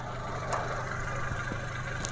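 A 2009 Toyota Kijang Innova V 2.0 litre manual, fitted with engine sound dampening, idles steadily with its low mid-pitched hum and faint knock close by, no talk over it.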